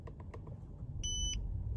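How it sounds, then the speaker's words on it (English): Two quick electronic beeps from a Tesla Model S or X ring out clearly over a low rumbling background, preceded by a few faint clicks, signaling Autopilot turning off. "The double beep indicates that it's turned off."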